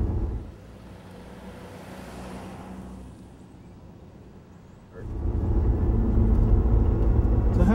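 An Aptera 2e electric car drives by with a low, steady rumble and road noise that eases off in the middle, then swells louder and closer over the last few seconds.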